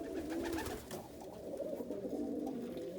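Young pigeons cooing inside a loft, a steady overlapping murmur of soft low coos from several birds close by, with no talking.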